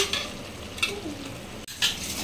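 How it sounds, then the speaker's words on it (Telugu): Country chicken with onion being stirred in a frying pan: a soft sizzle throughout, punctuated by a few scraping stirs of a utensil against the pan. "ఇలా కలపాలి ఫ్రెండ్స్, లేదంటే చికెన్ మాడిపోతుంది"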